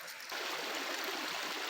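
A backyard creek below a house patio flows steadily, a soft broadband rushing and trickling that swells up after a brief quieter moment and then continues evenly.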